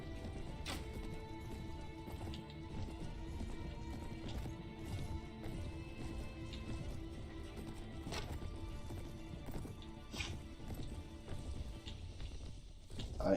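Horses galloping in the video game Prophecy of Pendor, a steady dense rumble of hooves with scattered clip-clop thuds and impacts, continuous and fairly even throughout, no talk.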